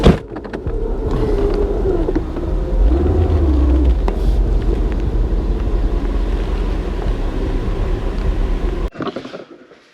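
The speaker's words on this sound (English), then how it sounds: "I'm gonna pull it into the garage." A Mercedes 500SL AMG 6.0 pulls into a garage, its engine a loud, steady low rumble with a brief revving swell, running close for several seconds before cutting off abruptly near the end.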